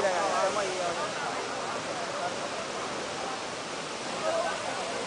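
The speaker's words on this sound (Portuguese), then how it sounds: "Negão, o que você tá achando da cachoeira?" Waterfall in Pirenópolis pouring steadily, a broad, even rushing roar of falling water with faint swells, heard up close on its own.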